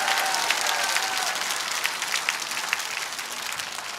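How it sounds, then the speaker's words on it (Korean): An audience at a rally breaks into sustained, dense applause, a steady wash of many hands clapping that stays loud and even throughout. "우리 전광훈 목사님께 큰 박수 한번 해주시기 바랍니다."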